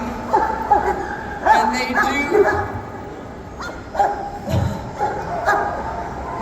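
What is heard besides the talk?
excited search dogs barking at a pet expo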